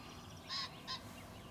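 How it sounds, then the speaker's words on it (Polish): Two short crowing bursts from a farmyard rooster carry faintly in the distance over a quiet outdoor field of clover at a Sudeten wild boar hunting ground. "i koguta z tyłu słychać"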